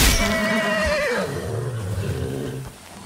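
A horse in the video game Far Cry 6 neighs loudly, a shrill wavering whinny that falls in pitch and then settles into lower snorting, with no talking.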